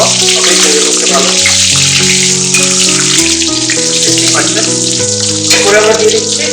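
Mutton fat and oil heating in a pan give off a steady, bright sizzle, heard under background music with sustained tones throughout.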